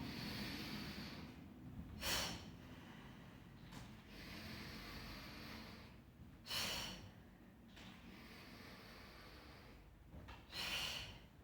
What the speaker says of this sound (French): Et on peut ajouter l'expiration forcée pour le guerrier 1.